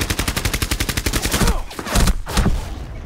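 Rapid automatic gunfire in Rainbow Six Siege, a fast evenly spaced burst of loud shots followed by a few scattered heavier blasts and impacts.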